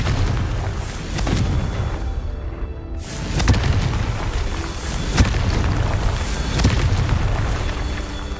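Blasting-spell explosions in the fantasy video game Hogwarts Legacy on PC, heavy booming bursts over a dense rumbling game soundscape, with several sharp impacts spaced a couple of seconds apart.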